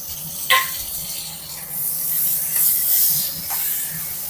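Tomato going into onions already sautéed in a hot pan, a steady close hiss and sizzle that swells and holds, with a couple of short sharp spits and clicks along the way.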